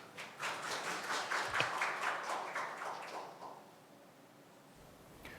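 A symposium audience gives brief, moderate applause to welcome a speaker. The scattered clapping fades over a few seconds into a quiet room.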